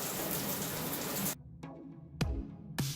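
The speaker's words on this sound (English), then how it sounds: "turn a boring old shower into a relaxing tropical rain" Shower water pours in a dense, even hiss like tropical rain for about a second, then stops abruptly, leaving a few scattered drips and splashes.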